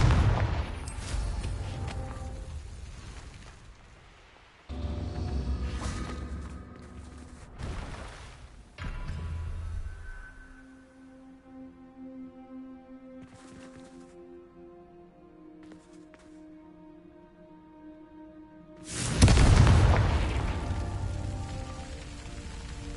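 Confringo fire-spell blasts from Hogwarts Legacy burst out in a few loud, broad explosions, with quieter ringing game ambience and tonal music between them, and a final big blast near the end.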